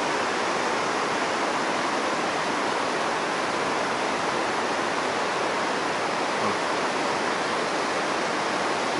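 Rapids on the Hiitolanjoki river rush in a dense, steady broadband roar, loud and close, unchanging throughout with no voices.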